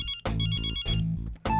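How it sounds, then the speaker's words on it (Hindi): Phone ringtone for an incoming call in a sitcom scene: a loud, bright electronic melody in short repeating bursts with brief gaps, heard alone. "ओह माय गॉड, देवी का फोन"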